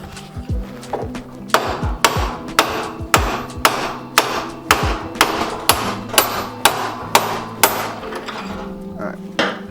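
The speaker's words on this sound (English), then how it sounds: "to remove the axle, you're going to need a punch and a mallet" A mallet hammers a punch against a bike axle to drive it out during a Gates belt drive install, about fifteen sharp metallic blows in a steady rhythm, close and loud, with brief pauses between strikes.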